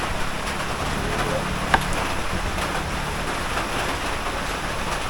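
Light rain keeps up a steady, even hiss in a rural Philippine setting, with a faint low rumble underneath and one brief sharp click near the middle.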